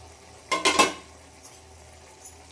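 A metal plate used as a lid is lifted off a pan of cooking avarekalu palya, giving a brief clattering scrape of metal on metal, followed by a couple of faint clinks.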